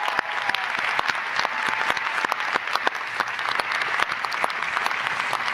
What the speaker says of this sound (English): Everyone, please, one more round of applause for Anna.